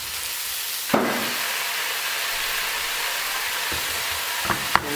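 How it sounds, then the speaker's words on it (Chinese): Food sizzles steadily in a pan while being stirred, with a few sharp utensil clacks against the pan. It is close and continuous, and no voices are heard. "先搅拌一下，"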